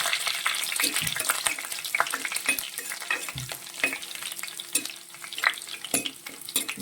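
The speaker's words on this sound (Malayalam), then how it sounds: "നമുക്ക് അതിലേക്ക് ഉള്ളി ഇട്ട് കൊടുക്കാം" Chopped onions sizzle in hot oil in a pan where mustard seeds have just popped, with a steady frying hiss broken by repeated scraping and clacking as a spoon stirs them, close by and with no voices.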